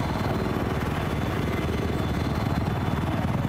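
A helicopter in a video game gives a steady, rhythmic rotor chop with a low engine rumble. It runs continuously and evenly through the whole stretch, with no one talking.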